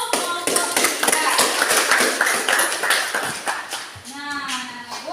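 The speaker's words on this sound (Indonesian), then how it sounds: "beri aplaus untuk kelompok 3" Schoolchildren in a classroom clap for a group that has just presented, giving a brief, dense burst of applause that tapers off as a voice begins speaking near the end.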